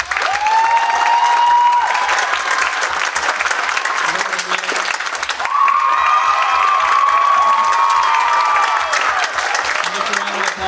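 Sustained audience applause with some cheering at a high school spring chamber orchestra concert, honoring the soloist; a steady, dense clapping wash fills the hall throughout, with faint voices mixed in.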